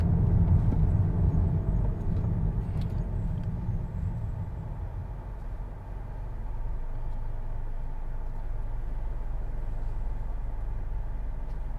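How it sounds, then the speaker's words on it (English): A 2020 Honda Accord Sport 2.0T with a turbocharged engine driving onto a turnpike in sport mode: a steady, fairly loud low engine and road rumble inside the cabin, heavier at first and then settling to an even drone. "But getting onto the turnpike here, I'm going to put the Accord into sport mode."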